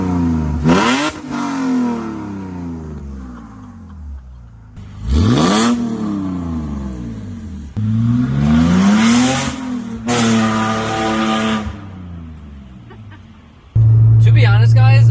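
A BMW E46 engine revs hard several times through aftermarket headers, rising and falling in pitch with a loud raspy exhaust, separated by brief lulls.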